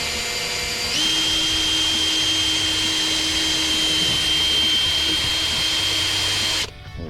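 Power drill boring a pilot hole for a Sea-Doo gunwale footrest, a loud steady high whine that starts after a second, holds for several seconds, then cuts off abruptly.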